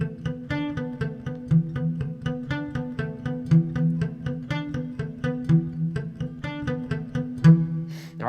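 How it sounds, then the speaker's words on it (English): A simple repeating guitar lick played palm-muted, a steady run of short plucked notes with a bass-line groove, close and clear with no talking. "the example I'm going to show you is a very simple lick I came up with this morning"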